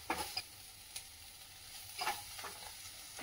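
Chicken pieces tossed with salt in a pan for a home-style Goan tawa fry, a faint low sizzle broken by a few soft scraping and stirring bursts, nearby and quiet with no voices.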